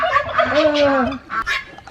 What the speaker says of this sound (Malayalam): ടർക്കി അല്ലേ?